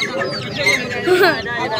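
A rooster and chickens cluck and squawk close by at a bird market, overlapping with the busy chatter of the crowd.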